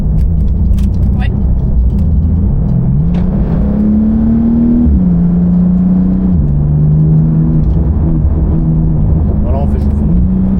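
A Ferrari engine revving as it warms up for donuts at a charity Ferrari event, loud close drone stepping up and down in pitch, with people talking over it.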